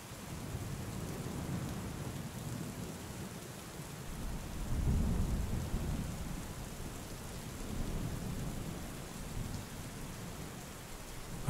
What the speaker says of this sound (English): punished by the raging storm